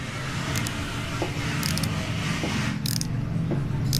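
A wrench works loose the 10mm coolant bleeder bolt on a KTM RC motorcycle, giving faint ratcheting clicks and metallic ticks in a few short bursts over a steady background rumble.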